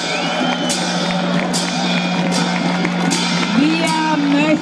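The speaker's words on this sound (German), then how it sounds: "Und ich bitte jetzt um einen noch viel größeren Applaus für unseren Lehrer" Crowd at an evening light parade in central Berlin, cheering and whooping with scattered shouts over a steady murmur, with festive music or tones carrying through the whole stretch.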